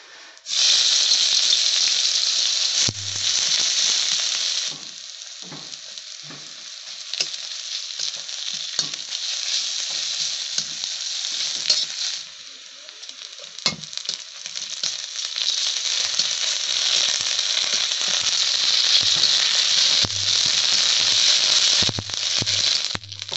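Potatoes sizzling and frying in a little oil in a village kitchen before snail is added, a loud steady hiss with crackles and occasional scraping stirs, dipping briefly midway.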